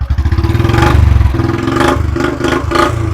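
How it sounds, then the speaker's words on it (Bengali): A second-hand motorcycle engine revs loudly close by, a throbbing idle rising into several rhythmic throttle blips and falling back, with no talk. "আবার রেস করে দেখিয়ে দাও।"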